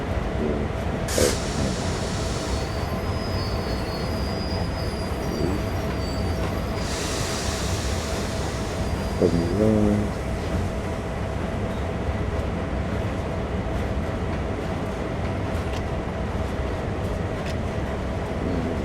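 A simulated train rolls steadily through a rail yard in Train Sim World 3, a constant low rumble with a few sharp high squeals and brief wheel clicks over the track, no talking.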